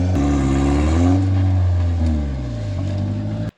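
Loud off-road rig on an extreme rock trail, its noisy muffler droning and a loose power steering belt adding a scream, revs steadily with the engine pitch swelling, dipping and rising again up close, with no one talking.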